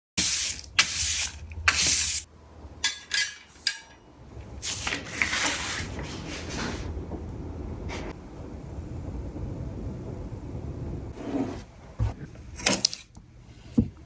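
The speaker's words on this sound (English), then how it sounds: "I'm going to spray this with water." Water misted from a spray bottle onto a piece of mixed-media artwork in a studio, as several short, sharp hissing bursts, then a quieter stretch of rustling and handling, with another spurt near the end.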